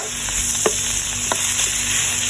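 Minced pork stir-frying in a hot pan for larb, a constant loud sizzle with a couple of soft stirring scrapes, no voices.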